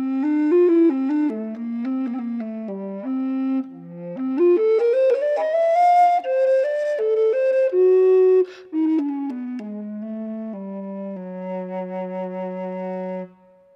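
An F basset recorder played with the cap removed and the mouthpiece turned toward the player for direct blowing: a close, bright, breathy melody with wandering phrases and a few held notes, played alone for over thirteen seconds.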